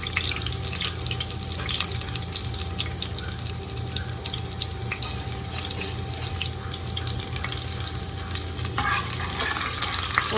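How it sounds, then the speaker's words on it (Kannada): Halved onions sizzle steadily in a pan of hot oil, a dense, loud, continuous frying hiss with faint stirring scrapes, and no voices over it. "ಇವಾಗ ಇದಕ್ಕೆ ನಾನು ಅರ್ಧ ಕಟ್ ಮಾಡಿ ಇಟ್ಕೊಂಡಿರೋಂಥ ಈರುಳ್ಳಿ ಹಾಕ್ತಾ ಇದ್ದೀನಿ"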